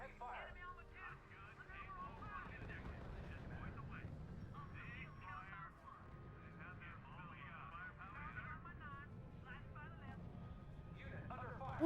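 Many warplanes drone overhead in the strategy video game R.U.S.E, a dense steady engine roar with radio-style game voices and chatter over it throughout.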